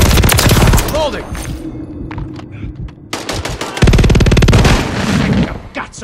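Rapid bursts of WSP Swarm submachine gun fire in a Call of Duty MW3 Team Deathmatch on the Breenbergh Hotel map, loud and close, with game voice callouts and other gunfire around it.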